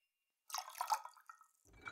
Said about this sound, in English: Pour some rich simple syrup.